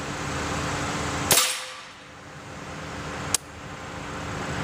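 A gunshot from Remington Yellow Jacket ammunition, one loud sharp crack outdoors, followed two seconds later by a smaller crack, over a steady hum of background noise.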